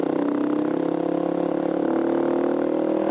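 A vehicle engine labours at low revs just before a downshift, lacking power. It gives a steady, close, droning hum for the whole stretch with no rev climb, and no one speaks.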